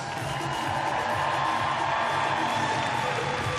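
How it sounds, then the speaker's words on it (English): Crowd cheering for Georgos Karavis at the 2024 Rogue Invitational gondola event, a steady, dense roar of voices and whoops that holds evenly throughout without pause. "Let's make some noise for Georgos"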